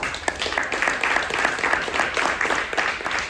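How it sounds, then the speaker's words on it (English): An audience at a citywide community gathering on reparations in New York City claps in steady, moderately distant applause that holds evenly throughout, fairly soft overall. "Let's give them a round of applause"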